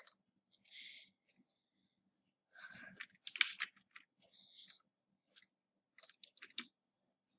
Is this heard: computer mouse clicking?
yes